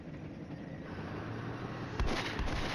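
Artillery fire in the wargame Flashpoint Campaigns: Red Storm, a low rumbling barrage that builds, then a burst of sharper impacts hits hard near the end.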